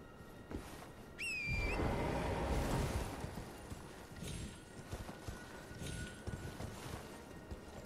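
A horse galloping in the video game Elden Ring, quick rhythmic hoofbeats running throughout, with a brief rising whistle-like call near the start and a louder rush of movement just after.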